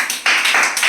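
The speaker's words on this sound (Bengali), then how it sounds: "কিশোরের জন্য একটা জোরসে হাততালি।" Applause for a contestant in a costume-challenge show, a short burst of loud, close clapping that surges and carries on for under a second.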